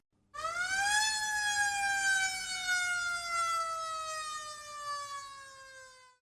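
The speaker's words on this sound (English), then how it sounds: "The ambulance arrives at the hospital." A steady wailing siren sweeps up and then slowly slides down in pitch, loud and clear with no other sounds around it.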